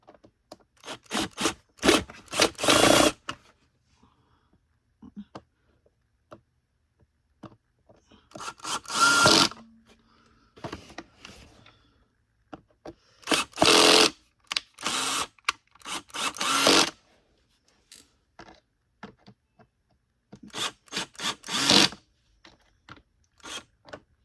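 A power driver runs screws back into a Bissell CleanView Rewind vacuum in several short, loud whirring bursts, close by, separated by quiet pauses and light handling clicks.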